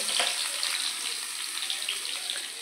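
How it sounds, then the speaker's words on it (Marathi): Garlic fries in hot oil with chillies for a patra bhaji, making a brief, steady, fairly loud hiss with faint crackles and no voices. "तेल आपलं छान गरम झालं आहे, त्यात आपल्याला थोडासा लसूण टाकून घ्यायचा आहे।"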